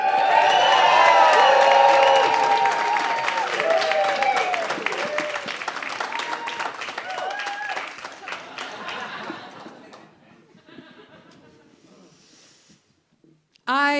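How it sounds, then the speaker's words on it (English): A crowd at a Slamchester poetry slam applauds and cheers to welcome poet Rose Kondo to the stage, loud dense clapping with whoops that gradually dies away to near quiet, then a sudden sound at the very end. "Can we please get a massive round of applause and welcome to the stage, Rose Kondo"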